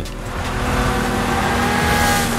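Car engines rev hard in Forza Horizon 5, a loud sustained roar that climbs steadily in pitch as the cars accelerate, close and unbroken with no voices over it.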